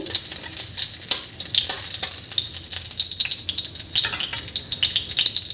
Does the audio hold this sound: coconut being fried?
yes